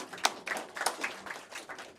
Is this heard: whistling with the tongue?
no